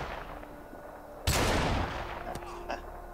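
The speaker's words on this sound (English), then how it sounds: "Oh, nice shot, Lead Snapper." Gunfire in Call of Duty: Modern Warfare Remastered, a loud burst of rapid shots in the middle followed by a couple of sharper single reports, heard over quiet game background with no talking.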